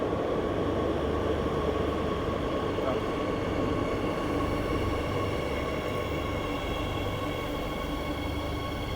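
A metro train rumbles through an underground subway station in Spain, with a steady, loud, continuous roar and a faint tonal whine across the whole stretch.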